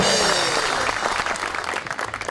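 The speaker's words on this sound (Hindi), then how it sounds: "बहुत सी तालियों में" Applause breaks out for a guest being introduced on a Pakistani comedy talk show, a dense clatter of clapping with voices mixed in, steady and loud throughout.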